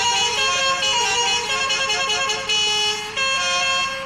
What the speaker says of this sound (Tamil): அப்படியே ஹார்ன் அடிச்சுன்னு போவோம்.